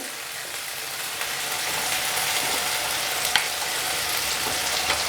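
Steady frying sizzle from ghugni in a pan as green chilli paste is stirred through, with faint scraping of the spoon beneath the continuous hiss and no voices.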